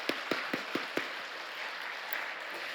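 Church congregation applause begins with five or six distinct, fairly spaced claps, then fades into a soft, diffuse wash of clapping in a large room.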